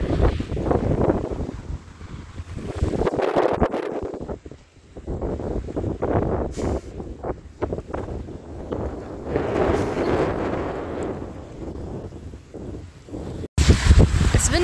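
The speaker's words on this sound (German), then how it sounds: "Es windet sehr." Strong gusting wind on a dike by the sea in Holland in February buffets the microphone in loud, uneven roaring bursts throughout, with a sharp cut near the end.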